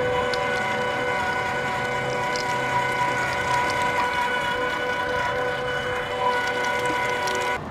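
A meat grinder churning through chilled beef chuck and pork shoulder, a steady mechanical whir with a ratcheting, geared hum that holds at an even level throughout, moderately close with no talk.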